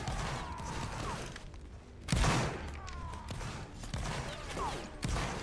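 Reenactors fire a ragged musket volley, sharp cracks scattered among shouted commands, with a loud clustered discharge midway and more shots trailing after amid outdoor chatter.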